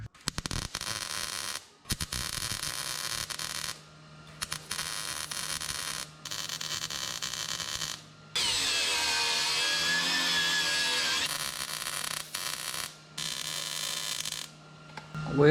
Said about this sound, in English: Now those edges, I'm just gonna weld them up.